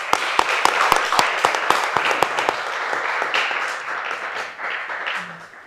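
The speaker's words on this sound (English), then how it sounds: "you can just maybe clap hands for Mr." Audience clapping at an aviation industry talk, opening with sharp, distinct rhythmic claps that blend into softer scattered applause as it fades.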